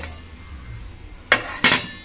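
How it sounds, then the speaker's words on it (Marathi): A lid set onto a steel pot for steaming dhokla gives two quick, close metallic clinks in succession after a quiet kitchen pause. "आता ह्याच्यावर आपल्याला झाकण ठेवायचंय।"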